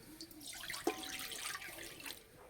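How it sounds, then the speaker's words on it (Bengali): Water streams into a wok set on a stove, a soft, continuous pouring and splashing with a brief clink near the start, moderately close and quiet, with no voices. "কড়াই দেব জল।"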